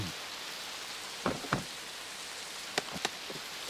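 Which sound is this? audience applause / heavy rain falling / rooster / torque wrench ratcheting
heavy rain falling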